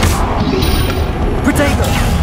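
A Confringo blasting spell explodes in Hogwarts Legacy, a loud rumbling boom spread across the whole clip amid dense combat noise, with a voice present.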